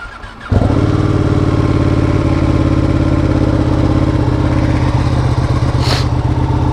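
Ducati Panigale sport motorcycle engine running loud and steady after a sudden start, a constant close throbbing drone with a brief higher whine near the end, ridden in sport mode.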